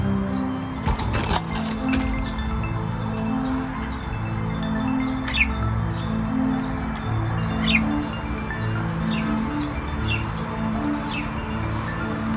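A lone pet bird chirps in short, scattered tweets over a steady low household hum, with a sharp crack near the start.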